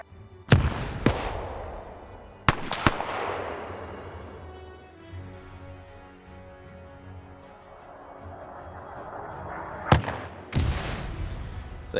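In a WW2 video game, mortar shells land in heavy booms: two close pairs of impacts near the start and another pair near the end, with a rumbling, droning battlefield bed between them.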